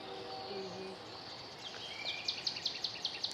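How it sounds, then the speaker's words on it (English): A hawk calls repeatedly near a river in Brackenridge Park, with ducks resting nearby; a string of short, sharp, high-pitched cries sounds at a distance over a soft, steady outdoor hush. "I can hear a hawk in the background."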